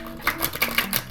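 Cards being shuffled close up: a quick run of crisp riffling clicks lasting about a second.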